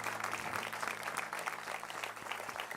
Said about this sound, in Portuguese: Uma salva de palmas a Jesus pela vida dos nossos bispos